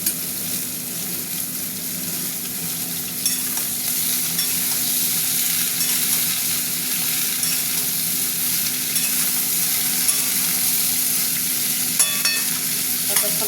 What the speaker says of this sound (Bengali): এবার দিয়ে দেবো সবজিগুলো ভাজা ভাজা